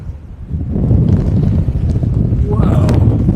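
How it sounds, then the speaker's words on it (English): Strong wind buffets the microphone in a loud, continuous low roar, gusting throughout, at a lighthouse in Atlantic City, New Jersey. "Oh, it's really windy now."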